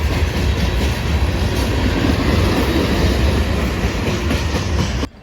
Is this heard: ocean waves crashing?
no